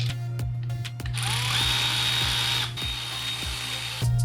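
Ratchet clicking steadily while tightening the two brake caliper bolts on a BMW R1200 GS motorcycle during drive shaft service, a close, loud run of rapid pawl clicks with brief pauses between strokes and a constant low hum beneath.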